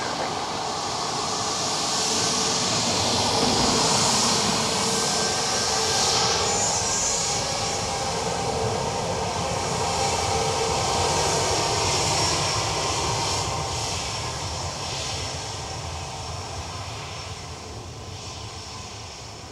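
An aircraft lands on runway 28 left at Dublin Airport in calm wind. A broad, steady jet roar fills the whole stretch, swelling early and then slowly easing away toward the end.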